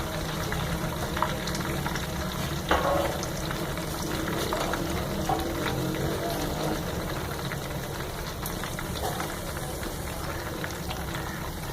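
Sliced onion and curry leaves frying in hot oil in a pan for Punjabi kadhi pakora, a steady hissing sizzle with a few faint pops and clinks, constant and close.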